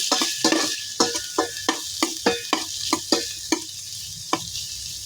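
Duck meat fries in a hot pan while being stirred, steady sizzling broken by about a dozen evenly spaced scraping strokes of the spatula, close and loud with no voices.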